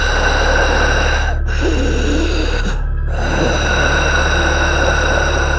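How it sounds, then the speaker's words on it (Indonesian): A heavy, raspy breath used as a horror story sound effect rasps loudly and close over a constant low drone, with two brief breaks between long strained breaths. "Ada suara napas yang berat dan serak."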